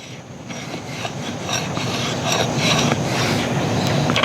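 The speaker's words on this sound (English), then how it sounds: "So we're going to carve a little bit of that off just for fun." Ontario SP-10 Marine Raider Bowie knife carving shavings off a piece of fatwood outdoors, a steady close scraping and rasping that builds slightly louder over several seconds, with no talking.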